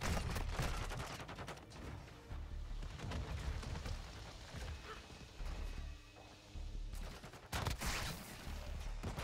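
Bryson 800 shotgun fired in Modern Warfare 2 multiplayer at close range: a string of sharp, loud blasts spaced irregularly, with a dense cluster at the start and more shots scattered through, amid other gunfire.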